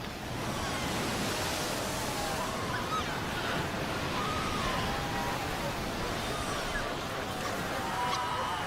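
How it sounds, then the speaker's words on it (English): Ocean waves break onto the shore in a steady, loud wash of surf and wind, a continuous roar without distinct pauses. "The pups fight desperately against the onslaught of the waves."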